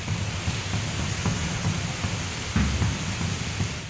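Heavy monsoon rain pours down in Maharashtra as a steady, dense broadband roar that holds for four seconds, with a few louder gusty swells rising partway through and no talking.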